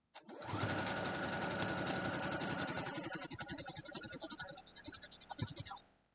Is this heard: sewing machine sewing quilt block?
yes